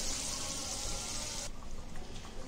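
Water poured into a pan for fish curry, a close, loud rushing pour lasting about a second and a half before stopping abruptly, leaving faint clatter.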